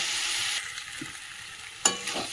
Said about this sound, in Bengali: আলুটা দিয়ে একটু কষাবো, একটু জল দেবো। আলুটা ভালো করে কষিয়ে নিই।